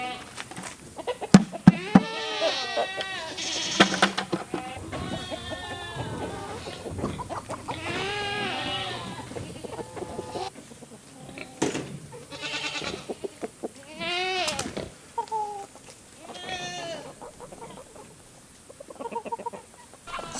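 Small goats on a farm with chickens nearby, giving repeated close, wavering bleats and clucking calls in bursts, with a person talking at times between the animal sounds.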